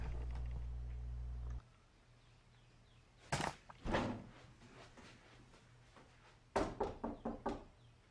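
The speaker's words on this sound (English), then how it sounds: "right after I set the tripod down, you'll hear a loud knock." Loud knocks sound inside an old plantation house at night after a steady hum cuts out: two sharp raps, then a quick run of several knocks later, with quiet between.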